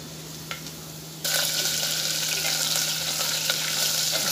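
Onions sizzle in a pan for veg biryani; a quiet hiss jumps to a loud, steady close frying crackle as they hit the oil, continuing to the end with no voices.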